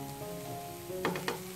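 Fried rice with diced tomato cooking under a lid in a pan, a faint soft sizzle with a low hum beneath, followed by a couple of brief louder scraping or stirring bursts near the end.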